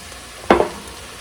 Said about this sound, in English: let's add just a little bit of broth, you know, anywhere quarter cup or so, just to try to scrape up all the bottom pieces